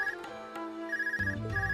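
A handheld communication device in the video game Trails of Cold Steel rings with a repeating electronic tone, close and clear over soft background music, with no talking.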